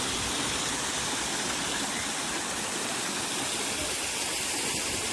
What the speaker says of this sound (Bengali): এটা একটা আর্টিফিশিয়াল ঝর্ণা